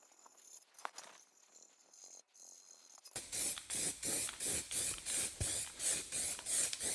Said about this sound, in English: now because this is in pieces, I'm gonna respray it